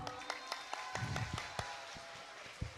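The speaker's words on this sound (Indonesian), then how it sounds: "Tepuk tangan dong." Audience at an Indonesian talk show clapping, with sparse, fairly evenly spaced claps that sound faint and thin rather than a full roaring ovation.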